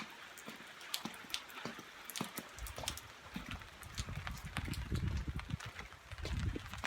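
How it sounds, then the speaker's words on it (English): Heavy rain drips and patters outdoors on a cold, dark day, with sharp irregular droplet taps and splashes over a rumbling wet wash that thickens partway through. "It's raining hard."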